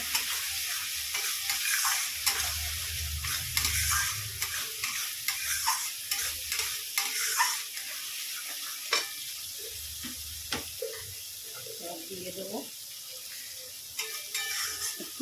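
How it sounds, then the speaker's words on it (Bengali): Spice masala fried and stirred in a pan for a Bengali paper chicken recipe, a steady close sizzle broken by repeated spoon scrapes and knocks against the pan, with no talking. "অল্প করে দিয়ে নেব ভালো করে মশলাটা কষিয়ে নেবো"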